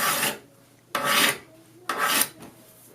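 A file is drawn across the edge of a steel card scraper three times in an even rhythm, each stroke a close, bright rasp about half a second long, separated by near silence.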